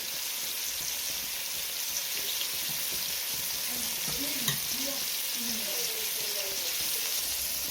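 Chicken frying in oil in a Jamaican kitchen makes a steady, close sizzle with soft crackles throughout, and a faint voice murmurs in the background.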